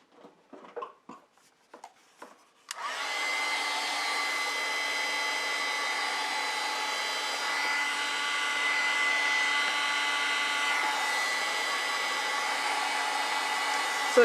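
A few faint taps, then a hair dryer switches on and blows with a steady, loud whirring drone for over ten seconds while drying a watercolor painting.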